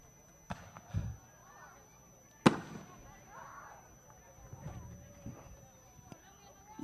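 Boom Boom Fireworks show at Gulf Coast Speedway's Dawg 50 race night, with a few scattered booms and one sharp, loud crack standing out over crowd noise and voices.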